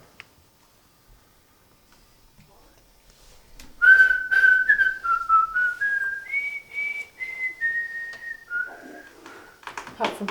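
A person whistles a short wavering tune in a quiet room, the melody starting abruptly after near silence and stepping up and down in pitch for several seconds, close and clear.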